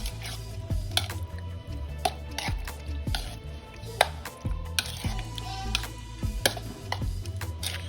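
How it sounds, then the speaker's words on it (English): Meal prep ingredients being stirred together in a container, with a steady run of sharp clicking, tapping knocks and soft squishy scrapes, close and busy with no talk. "And I'm going to stir this up."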